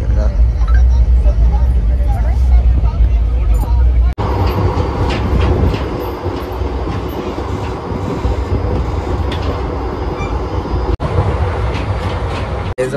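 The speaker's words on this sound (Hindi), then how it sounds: "हमारी जयपुर को आ चुकी है ट्रेन भाई।" A train pulls into Jaipur station, heavy rumbling and rolling clatter filling the whole stretch, loud and close, with a couple of brief dropouts and faint voices mixed into the din.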